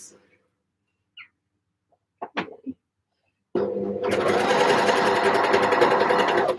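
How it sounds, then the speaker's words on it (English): Sewing machine stitching seams on knit beach pajamas: a few faint taps and clicks, then a steady, loud, continuous motor hum and needle rattle for the last three seconds. "now I need to sew some more"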